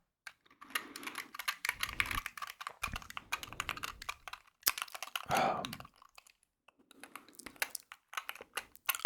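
Rapid keystrokes on a Wooting 60HE keyboard come in close, crisp bursts of clicks and taps, with short pauses and soft whispering between runs.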